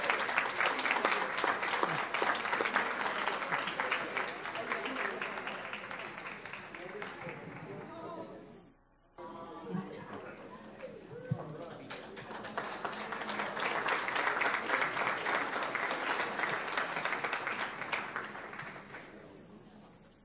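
A large audience at a Palm Beach County school district awards event applauds a school counselor, a dense, steady clapping that briefly dips midway before swelling again and continuing strongly.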